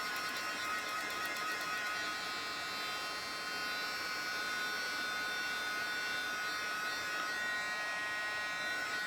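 A handheld dryer blows on a star cutout craft project, giving a steady, loud, continuous whirring hum that holds unbroken throughout, with no talking.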